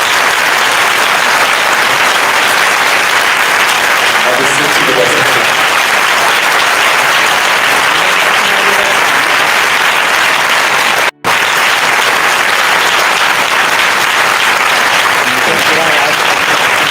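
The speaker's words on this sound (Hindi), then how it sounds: "परमेश्वर के लिए अच्छी ताली बजाएंगे।" Church congregation applauding during a worship service, steady broadband clapping sustained for about sixteen seconds with a brief dropout near the middle and faint voices underneath.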